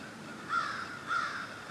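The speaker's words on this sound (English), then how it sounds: "there are a ton of crows going off" Several crows caw outdoors in two brief bursts over a steady background hiss, moderately distant and no one speaking.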